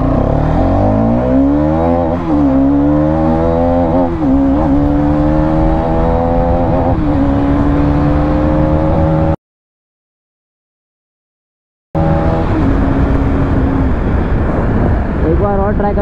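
A Hero Karizma XMR 210 motorcycle accelerates hard from 0 to 100 on an open road, its engine note climbing through several gear changes amid strong wind rush, with a few seconds of silence partway through.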